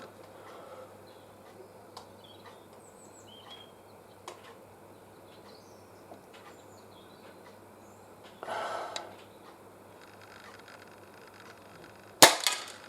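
A single sharp crack of a Benjamin Trail NP MK2 air pistol fired outdoors at cans 20 metres away, loud and close near the end after quiet ambience with faint birdsong and a brief rustle.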